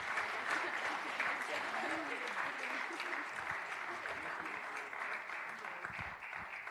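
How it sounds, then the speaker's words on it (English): Sustained applause from an audience at a county public meeting honoring student athletes, a dense steady wash of clapping held for several seconds at an even level. "Please join me in giving all of them a round of applause for their accomplishments"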